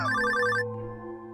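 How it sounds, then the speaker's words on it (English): Electronic phone ringtone in Stardew Valley, a bright trilling ring lasting about half a second, then cutting off and leaving a soft lingering musical background. "Am I getting a phone call?"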